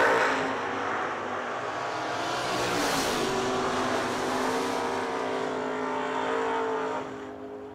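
1968 Chevelle streetcar launching down a drag strip at the Yellow Bullet Nationals, its engine roaring loudly and holding a strained tone for several seconds before easing off at the end.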